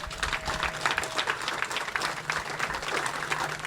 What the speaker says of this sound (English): another round of applause just for all these business owners